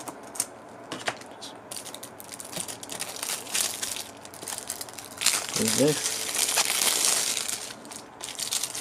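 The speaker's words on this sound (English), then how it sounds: "now we'll remove the plastic wrap here" Scissors snip and plastic shrink wrap crinkles as it is cut from a Nintendo Switch game box, close and busy with crackling bursts and a short pitched squeak near the end, while someone speaks briefly.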